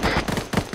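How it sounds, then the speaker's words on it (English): Rapid bursts of airsoft support fire crackle in a quick, uneven volley during an outdoor skirmish, loud and close with no talking. "Hydra, Hydra, Hydra, provide support fire for Chief."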